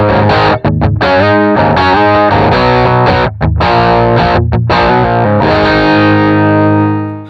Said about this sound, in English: that's going to give us an IR that is a Fender Champ, so an 8-inch speaker and a really small enclosure